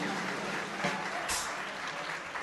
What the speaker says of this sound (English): how about a big round of applause for Conrad Montebank?